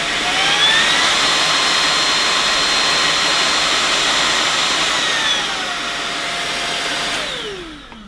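Bosch BBS611GB cordless vacuum cleaner whining loudly in turbo mode, a high steady motor tone that drops in pitch and then winds down as it switches off near the end.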